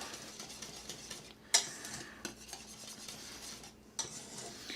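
A spoon stirs grated cheese into a béchamel sauce in a pot for a lasagna, with soft continuous scraping and a few sharper clinks against the pan, fairly quiet and close, with no talking.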